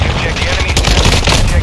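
Loud, close automatic gunfire in the Modern Warfare 2 video game, a dense rattling burst of shots running continuously through the moment.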